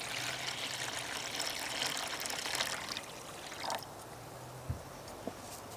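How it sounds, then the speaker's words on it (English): Water pours steadily into a bowl of sushi rice for a few seconds, a soft splashing trickle that then stops, followed by a couple of faint knocks. "I'm gonna put water into the bowl first."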